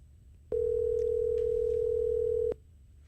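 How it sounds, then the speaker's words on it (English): A phone call is placed from a driveway studio setup as a steady single-pitch telephone tone sounds for about two seconds, starting and stopping cleanly over a low background hum. "Let's just give her a call and let's see if she answers."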